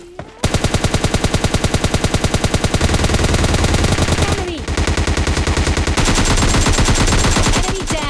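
Sustained rapid automatic gunfire from a mobile shooter video game, loud and continuous in dense bursts with brief pauses and sweeping whooshes, no talking over it.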